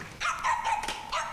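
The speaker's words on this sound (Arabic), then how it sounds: "ابعدي الكلب عني" Several sharp, close barks and yips from a dog indoors, fired off in an uneven burst of three or four calls.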